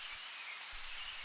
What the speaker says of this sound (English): the faintest sound of rain beginning to fall outside your window, soft, steady, like a lullaby made of water